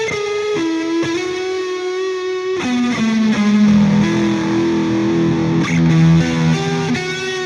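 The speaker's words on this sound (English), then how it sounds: "I'm going to add the distortion, I'm going to add the reverb, and then I can kind of play leads with that" An electric guitar plays sustained lead notes through heavy distortion and reverb, with a slight wavering vibrato. The bright, gritty tones ring out alone in a slow melodic line that steps between held pitches.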